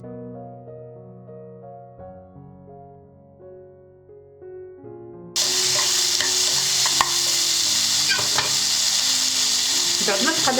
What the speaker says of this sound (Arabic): نزيدو عليها الجلبانه